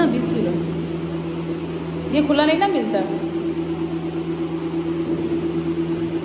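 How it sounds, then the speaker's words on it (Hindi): An electric fan runs indoors with a steady droning hum and airy whir throughout, while someone speaks briefly in Hindi over it near the middle. "अगर पंखे का शोर आ रहा हो"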